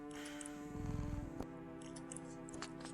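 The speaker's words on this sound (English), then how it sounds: "The sound of happy cats munching away at their fish fills your ears." Cats chew and munch on fish up close, with soft wet smacking bursts and a brief sharp click partway through, over a steady low hum.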